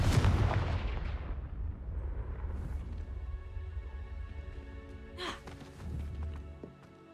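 A Confringo fire spell in the video game Hogwarts Legacy bursts with a loud, deep boom right at the start that rumbles and fades over several seconds, followed by a smaller crackling burst later.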